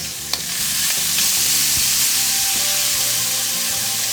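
Shrimp and tomatoes sizzle in a frying pan for pesto pasta, a loud close hiss of frying with a soft clunk at the start and light stirring beneath.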